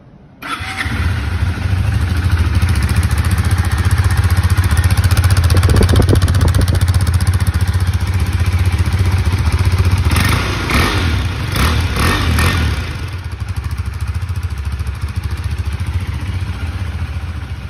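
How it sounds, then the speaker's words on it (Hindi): A new KTM RC 390 motorcycle engine starts and runs loud and close, its exhaust rumbling steadily with a couple of revs rising midway before settling to idle. "एक बार इस बाइक के एग्जॉस्ट नोट को सुन के देखते हैं"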